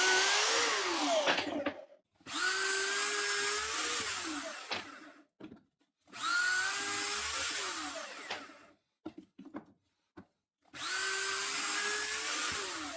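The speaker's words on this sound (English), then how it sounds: "this thing drills holes repetitively, very quickly, and with exact precision" A homemade fast drilling machine runs in repeated cycles: four loud bursts of a high whining motor whose pitch rises and falls as it drills holes, separated by short pauses with small clicks.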